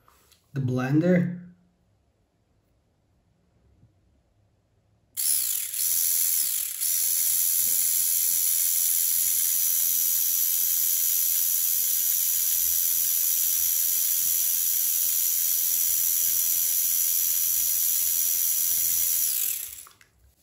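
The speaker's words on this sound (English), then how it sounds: "And again, the blender." A small blender motor powered by a homemade cylindrical lead acid battery whirs in a steady, high, hissing drone. It starts abruptly after a brief voice and a quiet pause, then runs continuously before cutting off.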